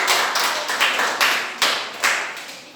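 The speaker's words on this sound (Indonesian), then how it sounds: "tepuk tangan untuk kelompok" A classroom group claps for a student presentation team, a small round of hand claps with several rhythmic bursts, fairly close and alone without speech.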